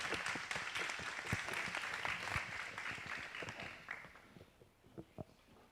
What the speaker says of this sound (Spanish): un fuerte aplauso a nuestros 3 oradores para hoy